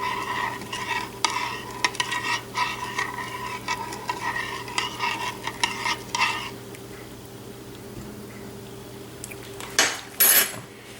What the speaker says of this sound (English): stir the milk mixture to get the sugar and the starter mixed up